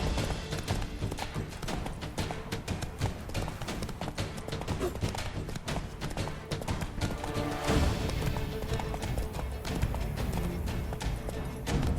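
Roach the horse gallops in The Witcher 3, making fast, rhythmic hoofbeats that carry steadily across the whole stretch over a busy game soundscape.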